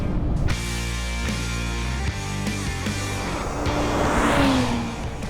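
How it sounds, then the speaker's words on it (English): A 2021 Audi RS5 Sportback roars at full throttle toward top speed on the NATRAX high-speed track in India, a loud sustained engine drone with rising gear pulls and wind rush, no talk. "Hold it at full top speed and just keep going, keep accelerating, keep going and pushing the top speed."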